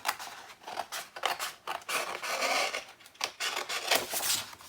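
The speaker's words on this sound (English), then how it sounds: "I am just going to trim off all this excess" Scissors snip and rasp through 65-pound black cardstock, trimming excess paper from a 4 x 6 tag album cover in a crafting session; a close, irregular series of short cutting and rustling strokes with no talk.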